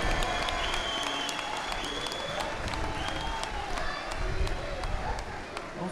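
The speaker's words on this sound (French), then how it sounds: "Une ovation pour Rani Assaf" A crowd gives an ovation to club president Rani Assaf, with dense sustained applause, scattered cheers and voices filling the room steadily throughout.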